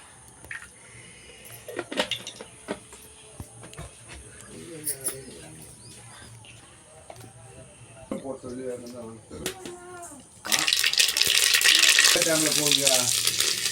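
Curry leaves and dried chillies hit hot oil in a rasam pot and crackle into a loud, sustained sizzle, arriving suddenly after quieter kitchen clatter and a person talking.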